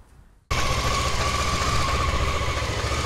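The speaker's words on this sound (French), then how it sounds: "c'est faire tourner un peu la moto histoire de fluidifier l'huile" A motorcycle engine starts up and idles steadily to warm the oil before an oil and oil-filter change, a loud, even rumble that runs alone after a quiet start.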